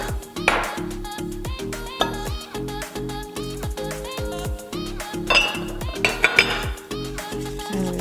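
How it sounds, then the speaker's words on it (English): A whisk clinks against a bowl while milk is mixed into banh xeo pancake batter, with quick metallic tapping in bursts under rhythmic background music. "And we whisk and mix it in."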